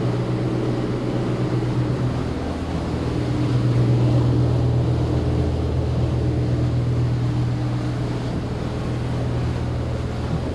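A 2016 Seaward 42 motor yacht runs at speed over reasonably flat water, its steady engine drone and rushing hull wash filling the scene loudly and evenly, with wind noise and no voices.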